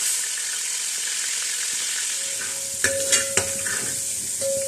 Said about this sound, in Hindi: अब इस स्टेज पे जो लहसुन अदरक की पेस्ट हमारे पास है ये इसमें डाल देंगे।